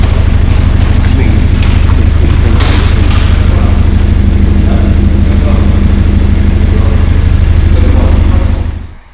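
BMW 120i fitted with a custom 1M-style quad exhaust, engine running loud and close with a deep steady low-frequency drone and rumble throughout, cutting off abruptly at the end.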